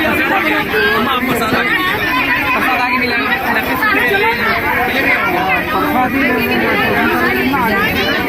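Crowd of devotees at a Jai Gurudev Guru Purnima satsang, a dense, steady babble of many voices close by, filling the whole stretch without pause.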